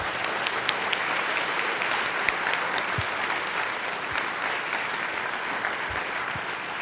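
An audience at a distinguished cryptography lecture applauds to welcome speaker Ron Rivest, a dense, steady clapping from a large crowd lasting several seconds with no talking.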